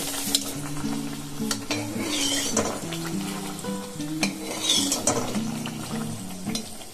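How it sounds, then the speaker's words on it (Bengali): Dhakai paratha fries in well-heated oil in a pan, giving a steady close sizzle and crackle throughout, broken by occasional clinks of a utensil; no one speaks. "তেলটাকে গরম করে নিয়ে তারপরে এইভাবে ছেড়ে দিয়ে দেখুন আস্তে করে এটা ফুলে উঠবে বা ভাজা হবে"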